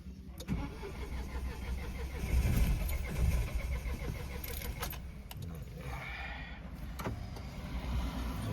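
A car engine cranks with its self-starter on a cold road trip from Kargil toward Delhi, turning over repeatedly in a steady churning rhythm with a few clicks, close and fairly loud.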